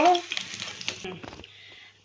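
Food drops into oil left over from frying fish heads and sizzles briefly, loud at first and then fading into a quieter crackle with a few stirring scrapes. The sizzling is close and lasts only a moment.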